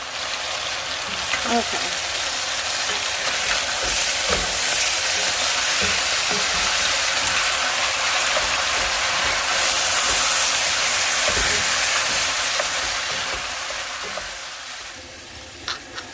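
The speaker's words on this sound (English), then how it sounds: "I'm going to turn up the heat just to the highest setting. I really want this to saute well." Beef sautéing in a pan over the highest heat, a steady loud sizzle running throughout with occasional stirring clicks, a brief spoken word near the end.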